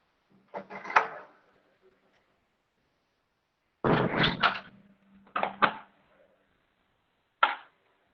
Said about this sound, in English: I'll just close my door and come.